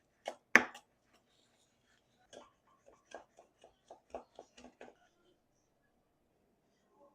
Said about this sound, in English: we're going to chop up some parsley